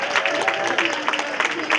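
An audience at a Black Veterans appreciation brunch applauds, a short burst of dense, steady clapping from the crowd with a few voices underneath.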